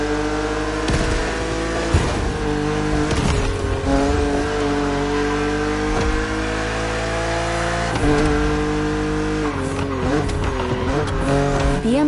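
A BMW Z two-seater roadster racing in The Crew Motorfest on PS5, its engine holding a loud, steady, rising and falling drone with gear-shift dips and brief tire squeals, close and continuous.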